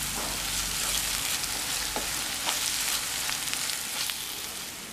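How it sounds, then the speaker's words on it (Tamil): Ginger garlic paste sautéing in a pan for mushroom gravy, a continuous even hiss of frying with a few soft clicks of a spoon, heard close and without talk. "இஞ்சி பூண்டு விழுது 1 நிமிஷம் வதங்கிருச்சு"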